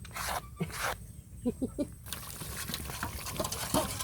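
Water poured to rinse a spice-grinding bowl into a fish curry, a faint splashing and trickling close by with a few brief gushes and light background noise.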